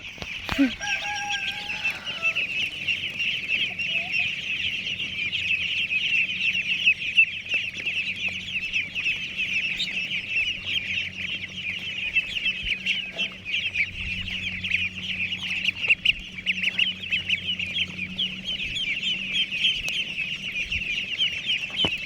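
Domestic ducks quacking steadily in a flock being herded, a continuous chorus of calls at moderate distance with faint background noise.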